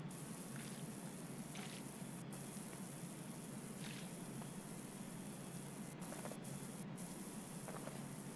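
Pressure washer sprayer in PowerWash Simulator 2 video game, a steady hissing spray at low level with faint mechanical clicks scattered through.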